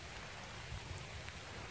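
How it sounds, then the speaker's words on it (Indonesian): Steady rain falls hard and continuously at a snakehead fishing spot, a dense even wash of drops with no voices. "Tiba-tiba hujan. Udah dua kali sih hujan tadi."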